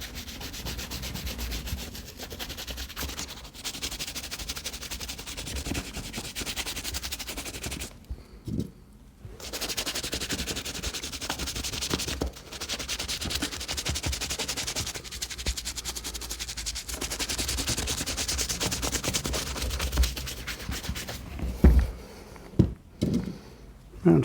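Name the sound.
brushing the nap of suede boots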